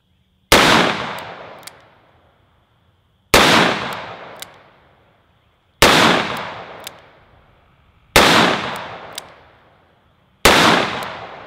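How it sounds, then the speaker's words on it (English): A Smith & Wesson 629 .44 Magnum revolver fires five loud, close shots at slow, even intervals, each a sharp blast with a ringing tail that fades before the next. "I got these 6 rounds and then one single left, so let's go ahead and shoot these, finish off the box"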